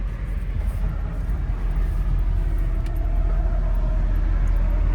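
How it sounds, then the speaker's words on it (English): Steady low engine rumble and road noise from a 1965 Ford Mustang Fastback with a 302 V8 cruising on a test drive in Kentucky, a continuous drone inside the car with no talking. "we're going to take this 1965 Ford Mustang Fastback for a test drive and see how it does"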